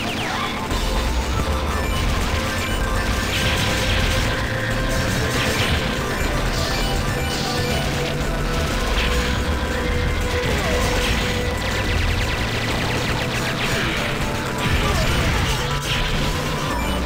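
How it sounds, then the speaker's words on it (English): A heavy machine gun fires in Metal Slug 6, sustained rapid arcade gunfire mixed with crashes, explosions and a busy music track, loud and dense throughout with a voice briefly heard. "Heavy machine gun!"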